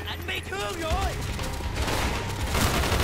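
Rapid, loud gunfire bursts from Call of Duty: Black Ops, played on Xbox 360, rattle continuously through the battle, with in-game voices shouting over the shooting in the first half.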